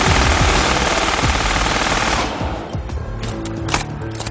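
A German MG42 machine gun, a stamped and welded sheet-metal weapon, fires one continuous, extremely rapid burst for about two seconds. The fire stops abruptly and scattered sharp reports and clatter follow.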